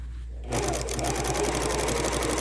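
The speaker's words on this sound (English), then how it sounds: "I'm just gonna stitch across this bottom." A sewing machine starts up after a short pause and stitches across the bottom of a fabric pillow, a close, fast, even needle chatter that runs steadily to the end.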